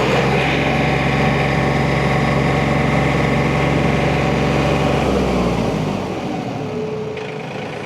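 An LS MT232H compact tractor engine runs at a held RPM with a steady, loud, close drone, then slows and drops in pitch toward the end.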